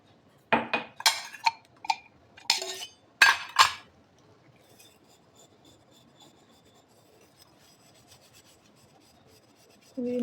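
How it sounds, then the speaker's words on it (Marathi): Small dishes, cups and bowls scrubbed by hand in a kitchen: about six rough, rasping scrub strokes in quick succession, each with a faint clink of utensils, then a long quiet stretch with light dish noise. "लहान लहान भांडे घासून घेऊयात. कप, वाट्या, नंतर मोठे मोठे भांडे घासायचे."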